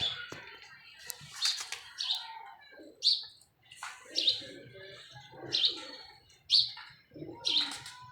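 Pigeons in a loft give repeated soft coos and chirps, about seven distinct calls at a steady, unhurried pace, close and clear, with faint background noise between them.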